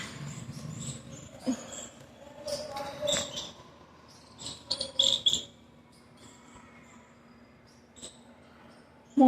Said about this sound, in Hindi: थोड़ा सा चिड़ियाँ चहचहा रही हैं